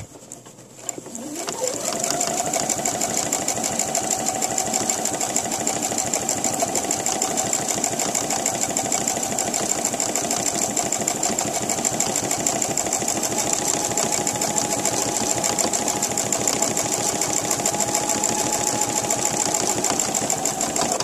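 Sewing machine stitching a dress hem, a steady close motor whir with rapid needle chatter that spins up in the first two seconds and then runs continuously and evenly without pause.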